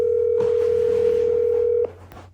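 A steady telephone dial tone hums loud and close for nearly two seconds, then cuts off, leaving a faint background.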